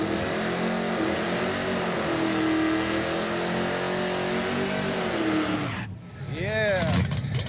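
A 1968 Dodge Charger with a 440ci V8, fresh spark plugs and a raised rev limiter, roars loudly as it accelerates, its pitch climbing and falling through sustained revs. The sound drops out briefly, then a second rising burst of revving follows.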